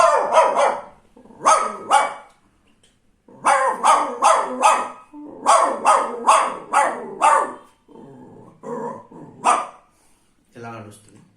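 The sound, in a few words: person imitating another dog's bark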